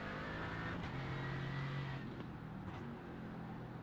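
A Mercedes race car in a sim racing game at Silverstone, its steady engine drone held high and constant, with the pitch shifting slightly as it climbs through the revs and no talk.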